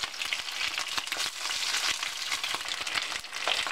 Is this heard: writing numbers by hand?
no